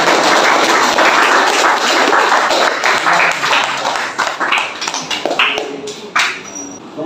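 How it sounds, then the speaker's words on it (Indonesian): A physics education class in Indonesia claps for a presenting group, with a dense, close burst of hand claps that gradually thins into scattered individual claps before fading. "kasih tepuk tangan untuk kelompok 1"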